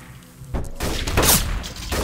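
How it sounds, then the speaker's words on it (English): A burst of loud gunfire and crashing impacts in a video game, sharp bangs packed together over about a second with rumbling after. "Lots of gunshots."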